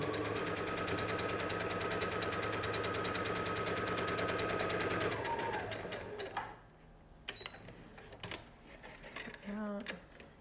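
A sewing machine stitches a face mask seam in a fast, steady, loud run of needle strokes lasting several seconds before stopping abruptly, followed by a few clicks and light handling noises.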